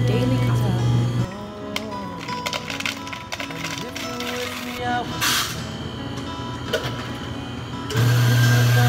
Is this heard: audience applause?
no